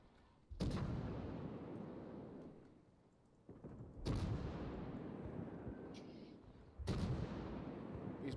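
Heavy naval guns of a Belfast cruiser fire in a naval warfare video game, three booming salvos spaced a few seconds apart, each with a long rumbling decay, loud and fairly close with no talk.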